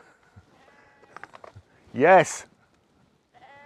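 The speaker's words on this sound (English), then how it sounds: "Flipping sheep, always have to get the last word in." A sheep lets out one loud, close bleat lasting about half a second, between bursts of a man's speech during a car walkaround.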